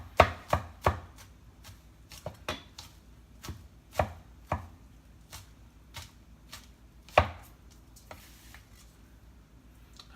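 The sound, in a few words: rough chopping garlic with a knife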